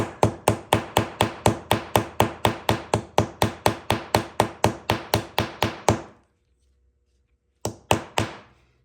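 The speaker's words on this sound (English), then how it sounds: "You can either use a small ball peen hammer, a chasing hammer, whatever you want to use. And then I flatten it, and then I just peen it." A small ball peen hammer peens over the post of a nail on leather, striking about three times per second in a long steady run of sharp, loud taps, then a pause and a few final blows.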